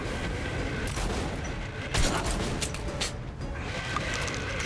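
Gunfire in the video game Metro: Last Light, a dense continuous barrage of rapid shots with a heavier burst partway through, loud and filling the whole stretch with no speech.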